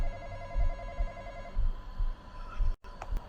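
A telephone rings in a horror-style video game, its repeating warbling tone steady over low rumbling ambience and thumping before the ringing stops and a brief sharp silence cuts in.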